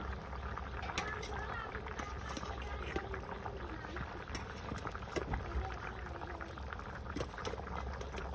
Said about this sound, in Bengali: এই যে দেখেন তরকারিগুলো একবারে ফুট দিয়ে গেছে